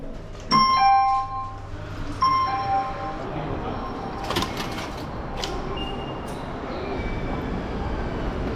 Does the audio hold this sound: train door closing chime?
yes